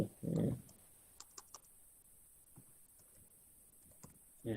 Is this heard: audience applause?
no